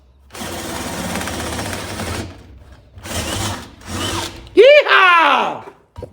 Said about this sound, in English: Quarter-inch steel takes a little while to drill through.